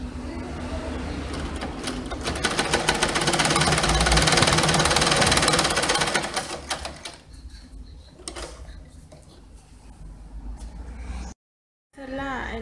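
A sewing machine stitches a hem, running a fast, rattling mechanical whir that grows louder mid-stretch, then slows to softer intermittent stitching with a brief silent break near the end.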